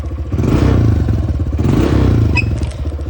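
A Honda CRF 125F dirt bike engine idles while warming up, a steady close, loud putter with a rough uneven rhythm and light mechanical clatter throughout.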